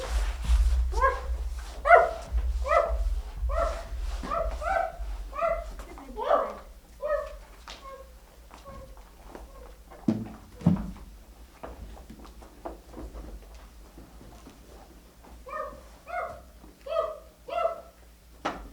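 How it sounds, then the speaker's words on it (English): A dog barks repeatedly in bursts, mid-distance, with short pauses and a few whimpering yips, while people talk faintly in between; the dog is chained up in a yard. "She's barking."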